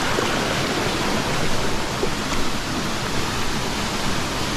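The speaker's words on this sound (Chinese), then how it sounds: "两个瀑布啊！" Twin waterfalls at Double Waterfall Pool on a Hong Kong stream hike send out a steady, even rush of falling water that fills the whole scene without a break.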